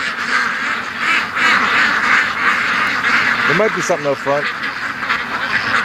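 Backyard ducks give a short burst of quacks amid steady outdoor noise while someone talks over them.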